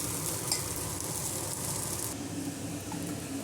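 Okra (bendakaya) sizzles and crackles in a pan, a steady, fairly soft frying hiss heard close up with no voices.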